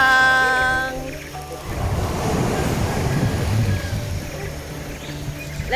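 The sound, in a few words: sea waves at Sangchai Beach, Phuket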